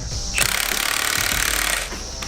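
A power tool hammers in a fast, steady rattle while pushing bushings out, loud and close for most of the clip before cutting off.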